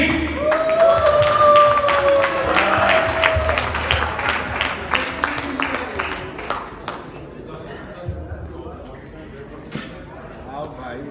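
Audience applause welcoming a singer onto the stage at a Pakistan Cultural Society Eid Milan show, a dense patter of claps that is loud at first and slowly thins over about eleven seconds, with music tones and a voice mixed in near the start.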